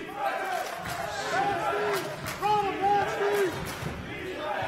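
A college men's basketball game, with crowd and bench cheering and shouting in an arena, moderate and steady, with sneaker squeaks and a commentator talking over it.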